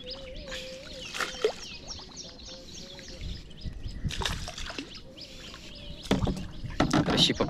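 Small wooden rowing boat moving on water while checking crab traps, with soft irregular paddle splashes and water lapping close by, birds chirping in the background and a few brief voices.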